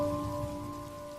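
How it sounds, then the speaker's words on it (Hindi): A rainstorm sound effect plays as a faint, steady hiss of falling rain, with a low tonal hum beneath it. "ये कैसी आंधी बरसात आ गई"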